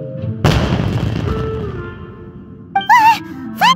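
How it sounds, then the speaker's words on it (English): A loud booming blast like fireworks erupts in an animated scene, its rumbling roar decaying over a couple of seconds before voices break in. "Was that an explosion?"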